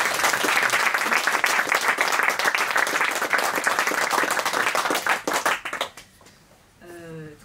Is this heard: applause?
yes